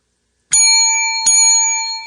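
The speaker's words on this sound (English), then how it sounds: "I'm going to ring the bell every time there's a new fucking character" Two bright, ringing bell dings, the second about three-quarters of a second after the first, each sustaining a clear tone that decays slowly. Loud and close, with nothing else heard.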